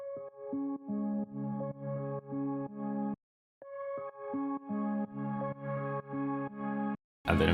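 A synth sound resampled from Arturia Analog Lab plays a bright, pulsing chordal pattern in short repeated bursts, briefly dropping out near the middle before resuming, clean and fairly prominent with no voices.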